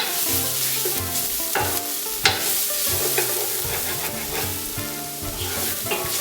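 Garlic sizzles in a pan while Brazilian pulled pork is being cooked, with a bright steady crackle broken by repeated stirring strokes and scraping, close up with no voices.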